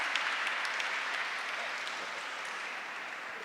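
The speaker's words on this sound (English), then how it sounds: "Wow, big round of applause." An audience at a Lunar New Year celebration breaks into applause, a dense burst of clapping that starts loud and gradually tapers off, with no speech over it.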